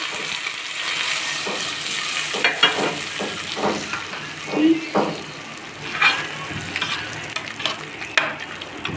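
A hot tempering of curry leaves and asafoetida is poured into bottle gourd dal, erupting into a close sizzle with stirring and spoon scrapes, loud bursts rising and easing repeatedly over a constant frying hiss.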